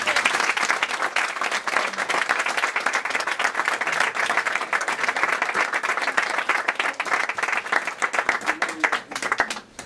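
Sustained applause from an audience at a book presentation, dense crowd clapping continuing loudly without a break and thinning slightly only at the very end.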